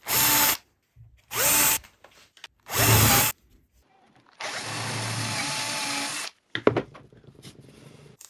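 A power drill bores holes into a plywood T-square in three short, loud bursts, followed by a longer steady run of drilling and a few scattered clicks and handling knocks at close range.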